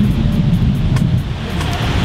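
Waves wash onto a beach in Trinidad under gusty wind that buffets the microphone, a steady, close roar of surf and rumble with no voices.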